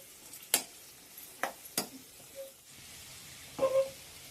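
Small pieces of coconut fry in a ghee tempering for sweet pongal, heard as a quiet, sparse sizzle with a few sharp pops and stirring clicks spread across the pause.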